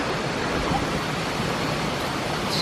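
Rushing water of a waterfall in Phu Quoc, Vietnam, as a steady, dense broadband roar with no distinct events, close and fairly loud throughout.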